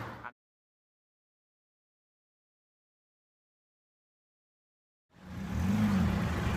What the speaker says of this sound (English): You can see that car's just going through it now.